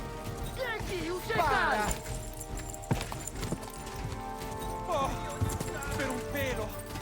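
Horse hooves clip-clop steadily in the medieval game Kingdom Come: Deliverance II, a rhythmic trot heard under voices and other game sounds throughout.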